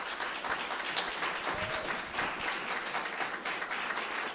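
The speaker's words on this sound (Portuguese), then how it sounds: "Eu queria que você aplaudisse." A church congregation at a charismatic spirituality seminar claps in a continuous, moderately faint wash of applause that stays even throughout, with no talking over it.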